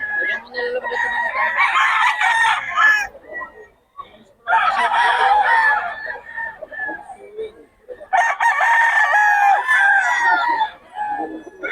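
Roosters at a busy chicken market in Bocaue crow loudly and close, three long rising-and-falling calls in a row with short gaps between them.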